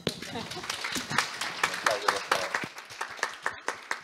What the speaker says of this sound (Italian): Andrea Cavaletto, ancora un giro di applausi su.